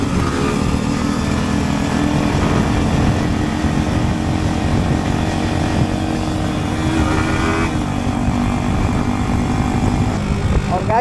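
Four motorcycles ride fast together along a rough highway, a steady, loud, close engine roar mixed with wind rush, continuous throughout the ride without clear breaks.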